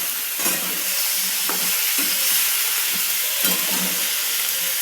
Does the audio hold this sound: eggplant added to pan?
yes